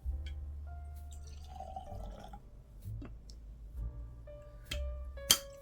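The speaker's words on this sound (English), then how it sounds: "Let's pour it out." Peated single malt whisky pours from a bottle into a glass, a quiet close-up of trickling and glugging liquid with small splashes and a faint rising tone as the glass fills, ending in a bright clink.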